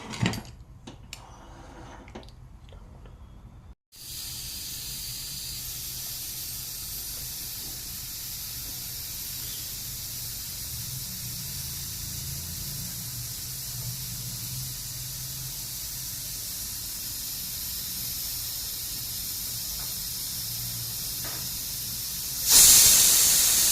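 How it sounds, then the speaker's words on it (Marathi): A pressure cooker, lidded for a sweetcorn and capsicum curry, gives off a continuous even steam hiss for about twenty seconds, rising to a louder burst at the end. "आता आपण कुकरला झाकण लावून एकच शिट्टी फक्त करून घेणार आहोत."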